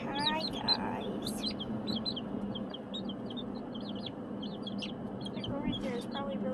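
Young birds with juvenile plumage chirp repeatedly in quick, high peeps over a steady background hiss, fairly faint and close by, continuing throughout.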